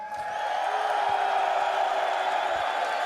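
Romanian fans fill an esports arena at the PGL Cluj-Napoca 2025 Counter-Strike semifinal between FaZe and Falcons with a steady, distant roar of crowd cheering and whooping.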